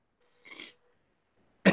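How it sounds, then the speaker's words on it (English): A person getting over a cold coughs once, a short loud burst near the end, after a soft breathy throat sound. "I am coughing a lot"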